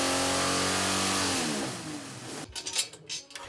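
Jeep stroker engine on a dyno during a pull, a loud sustained high rev with rising tones that drops off and then gives way to a lighter, uneven rumble as the engine falls back.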